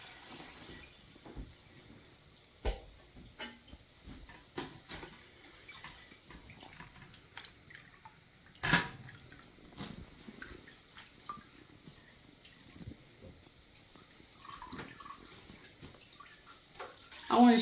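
Strained chicken broth is poured into a small stock pot, a faint continuous liquid stream with soft splashes and occasional clinks from the pot.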